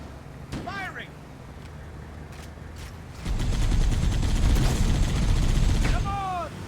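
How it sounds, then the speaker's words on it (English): Gunfire in Halo CE Anniversary during a beach assault: a sustained burst of loud, dense shots fills the second half, with quieter game ambience and chirping effects before and a brief voice present. "Firing!"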